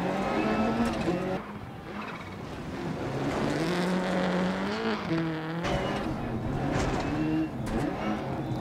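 Damaged Subaru Impreza S4 rally car in the racing game DiRT Rally 2.0, its engine revving up and down through gear changes with tire noise, loud and continuous throughout.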